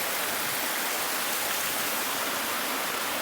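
A small waterfall pours into a village pond, producing a constant, dense rushing hiss of falling water, close and steady for the whole stretch with no talk over it.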